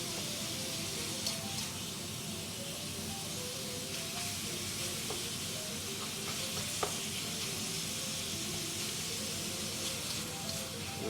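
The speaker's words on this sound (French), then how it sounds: "Donc là, on cuit la viande." Ground meat frying in a pan for mapo tofu, a steady loud sizzle with occasional stirring scrapes, no talking.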